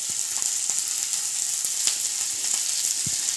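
Vegetables for chilli parotta sauté in a hot pan with green chillies, a loud continuous sizzle close by, broken by occasional sharp taps of a spatula stirring.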